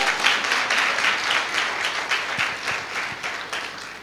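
A church congregation claps together in a steady, rhythmic beat, the hand claps close and fairly loud, with no talk over them.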